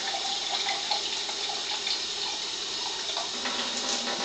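Water pours steadily from a KYK water ionizer set to level 4 at about 1.3 liters per minute, a continuous close hiss and splash with no talk over it.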